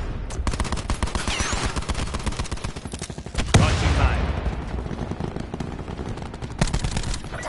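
Rapid automatic gunfire from the video game Black Ops, dense bursts of shots running almost nonstop, with a louder blast around the middle and faint voice beneath.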